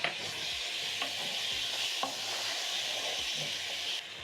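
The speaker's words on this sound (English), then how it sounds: "Stir in the seasoning cubes, and as you can see, the onions are browning." Seasoning cubes stirred into browning onions for collard greens, a steady sizzle with periodic spoon scrapes and knocks against the pan, close and continuous, no talking.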